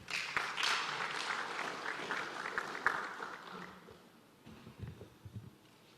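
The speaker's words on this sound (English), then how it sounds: "let's give her a big round of applause" Audience applause at a national oil and gas symposium in Uganda, a dense sustained clapping that fills the room for about three seconds, then thins out and fades into scattered claps and low murmur.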